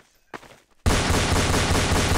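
Rapid gunfire from the Counter-Strike: Source video game on a surf map erupts abruptly after a brief faint sound, continuing as a loud, dense burst of repeated shots with no talk.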